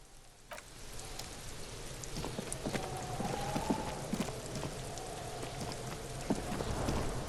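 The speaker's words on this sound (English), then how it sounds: "Rain drips from the eaves and floods the gutters." Steady rain patters and splashes on hard surfaces, with scattered heavier drips and a low rumble underneath, in the video game Disco Elysium.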